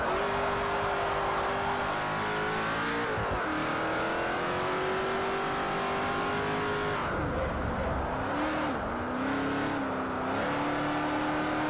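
A powerful car engine in the racing game Forza Motorsport 4, Class A North American Tour, revving hard and continuously with pitch climbs and drops at gear shifts, loud and up close with no talk over it.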